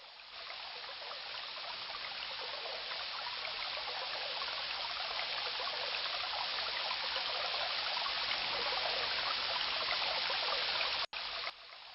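A river in the King's Quest 1 game rushes steadily, a constant broadband wash of flowing water that holds even for about eleven seconds before a brief dropout.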